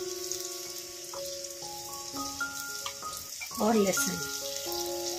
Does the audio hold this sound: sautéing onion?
yes